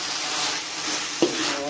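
Potato pastel filling stirred in a frying pan over high heat, a steady broad sizzle with a brief scrape of the spoon partway through, close and continuous.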